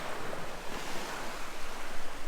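Incoming tide waves wash steadily onto a Northumberland shore, a continuous broad roar of surf mixed with wind noise on the microphone, loud and unbroken.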